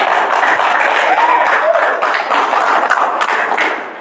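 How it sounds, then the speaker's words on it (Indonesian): A talk show audience applauds the guests, a loud, dense burst of many hands clapping that rolls on steadily and then begins to fade at the end, with a few scattered brighter claps and taps. "boleh tepuk tangan dulu dong buat bintang tamu"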